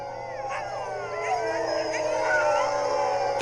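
Greenland dogs in northern Norway, above the Arctic Circle, howl together in a steady, layered chorus of long wavering wails with sliding pitches that swell slightly louder toward the end.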